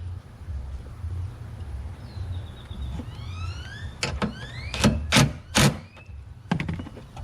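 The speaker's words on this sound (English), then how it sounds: "So last thing to do is screw this on." Fitting on an oil catch can hand-screwed into place under the hood of a 2018 GMC Sierra 6.2L, several close, short ratcheting clicks and thunks in quick succession over a low garage hum, growing louder toward the end.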